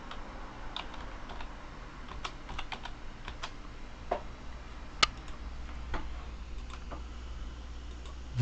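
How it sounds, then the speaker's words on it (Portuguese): Quick typing on a computer keyboard at a server setup, a steady run of light clicks with a few sharper keystrokes standing out, close and fairly quiet with no talking. "Acabei digitando aqui"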